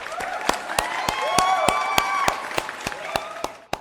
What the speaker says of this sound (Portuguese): Palmas pro LeBron James